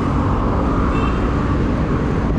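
Road traffic rumbles steadily on a long road in Naic, Cavite, a dense low roar of passing vehicles heard close and loud during a group ride, with no talk.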